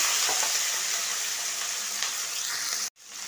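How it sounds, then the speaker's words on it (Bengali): Red and yellow bell peppers, tomato, green chilli and onion hit a hot pan together and sizzle loudly and steadily, a dense close frying hiss that cuts off abruptly near the end. "এইবার বেল পেপার, লাল, হলদে, টমেটো একটা, কাঁচা লঙ্কা আর বড় পেঁয়াজ একটা, সব একসাথে দিয়ে দিলাম"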